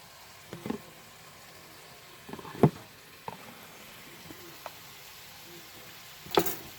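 Brussels sprouts frying in a covered pan give a quiet, steady sizzle punctuated by scattered louder pops and crackles, some sharp bursts standing out over the low hiss.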